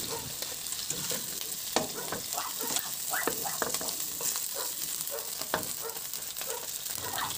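Pork chops frying in a pan, a steady close sizzle with scattered crackles and pops running throughout, no voices.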